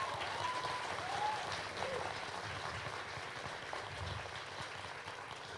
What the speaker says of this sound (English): Another big round of applause for the English drama.